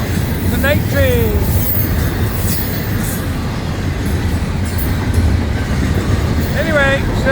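A night train rolls past on a Florida East Coast rail line with a continuous heavy rumble, clattering wheels and a pair of sharp squeals, close and loud, while someone talks over it.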